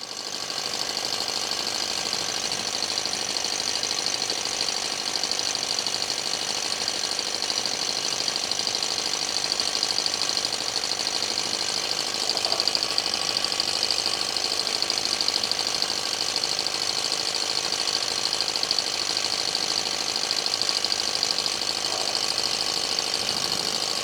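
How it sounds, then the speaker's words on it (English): A small alcohol-fired Stirling engine runs steadily at close range, a faint, even mechanical whir with a light rhythmic ticking that continues unchanged throughout, with no voices. "it's a neat little Stirling engine"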